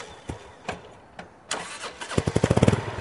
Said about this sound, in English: He's going to start the motorcycle.